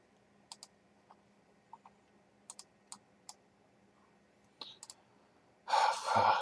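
A computer mouse clicks a handful of times in a quiet room, sharp single and double clicks spaced out over several seconds, ending in a sudden louder burst of noise.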